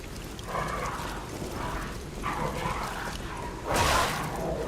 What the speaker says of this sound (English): Dogs are annoying.